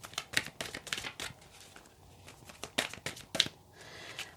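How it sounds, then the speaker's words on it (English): Tarot cards being shuffled by hand, a series of quick papery riffles and soft slaps at close range, in short bursts with brief pauses between them. "this deck is a little bit awkward to shuffle"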